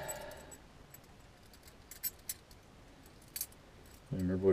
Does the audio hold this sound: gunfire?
no